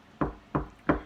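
Three firm knocks rap on a bedroom door, close and evenly spaced, each a sharp thud with a short decay.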